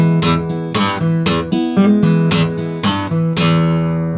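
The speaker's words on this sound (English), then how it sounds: "when we apply that to just the 6th string, our riff will sound like this." A Delta blues riff on acoustic guitar, with the sixth string snapped by the thumb, plays a sequence of sharp, percussive bass snaps followed by ringing strummed notes in a steady groove. The final chord rings out alone.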